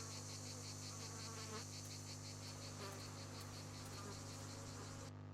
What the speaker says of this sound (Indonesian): Oh, ada lebah.